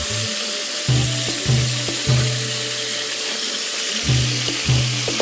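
Boiled taro stems hit a pan of fried chickpeas, giving a steady sizzle broken by repeated low knocking and scraping of stirring in a loose rhythm, close and fairly loud, no speech.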